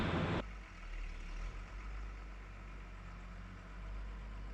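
A Hesston 1372 tractor-driven mower conditioner's engine idles steadily to warm the gearboxes, a low constant rumble close by after a brief louder burst at the start, with no talk over it.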